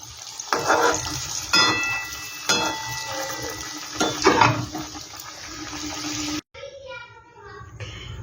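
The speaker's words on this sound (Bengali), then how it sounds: "এটাও আমি একইভাবে ভেজে নেব" Khaja sweets fry in hot oil with a steady sizzle, broken by a few louder splutters as pieces are turned. The frying cuts off abruptly near the end and a fainter, softer bubbling follows.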